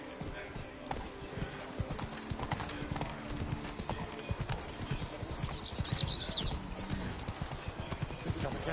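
Roach, a horse in The Witcher 3, gallops with a quick, steady clip-clop of hooves throughout, fairly close, with faint background game sounds and a brief whinny-like cue.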